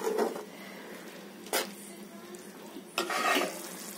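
Paneer methi chaman with fenugreek leaves and cashew paste cooks in oil in a pan, giving a faint, steady sizzle broken by two short scraping clatters of stirring.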